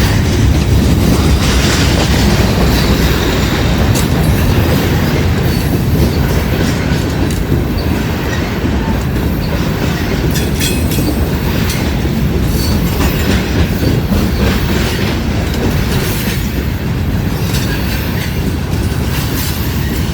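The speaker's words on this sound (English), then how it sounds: "Loaded rock train." A heavy loaded rock freight train rumbles past close by, its wheels clattering rhythmically over the rails with a constant loud roar and occasional metallic squeals, crossing the Little Miami River.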